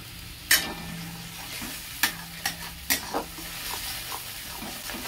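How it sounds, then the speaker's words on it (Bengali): Ginger, garlic, onion and green chilli paste with a pinch of black cumin fries in hot oil, giving a steady low sizzle broken by several sharp spoon scrapes and stirring clatters. "ভালো করে মশলাটা ভেজে নেব বা কষে নেব"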